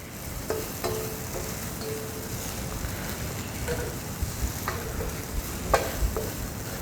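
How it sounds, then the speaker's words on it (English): Vegetables and potato pieces are stirred slowly in a pan for a vegetarian meal, with soft scraping strokes and faint clinks repeating over a steady sizzling, frying hiss. "Then you need to slowly mix the ingredients together."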